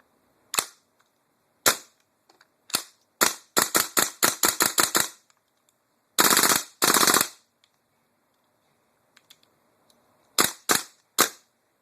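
A WE M4 airsoft rifle test-fires after a hammer change, with loud, close, sharp cracks: single shots, then a fast string of about ten, a short burst, and a few final spaced shots; no talking.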